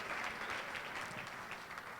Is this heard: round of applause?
yes